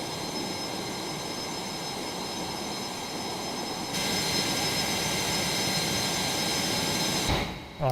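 Steady, loud drone of an aircraft engine in Microsoft Flight Simulator, a dense continuous roar with a whining tone that rises a step in level halfway through, then cuts off briefly near the end.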